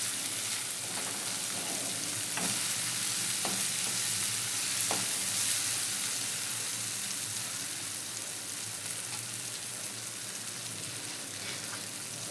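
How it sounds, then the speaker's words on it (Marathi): A spoon stirs upma with turmeric in a hot pan, scraping steadily over a soft continuous sizzle of frying, with occasional sharper knocks against the pan and no talking. "आता चांगलं मिक्स करून घेऊ."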